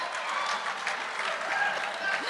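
A round of applause fills the room at a school awards evening, steady dense clapping from the audience sustained throughout without a break.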